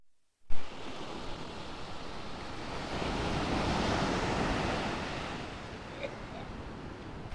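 Surf washes continuously onto a beach on Mousuni Island, swelling and fading in a broad hiss with some wind, after a brief knock at the start.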